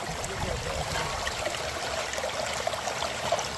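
Creek water runs in a steady, broad rush with no break, close and fairly loud, set at a creek used for sluicing and panning dirt.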